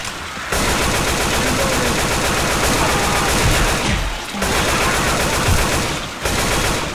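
Rapid automatic gunfire in Left 4 Dead 2 rattles in long, dense bursts, loud and close, broken by two short pauses, with no talk over it.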